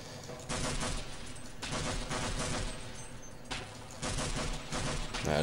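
Sustained automatic gunfire in Half-Life, dense rapid bursts in several long stretches separated by brief pauses, loud and close, with a short mechanical click at the very end.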